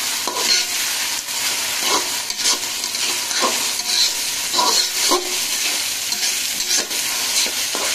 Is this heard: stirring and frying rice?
yes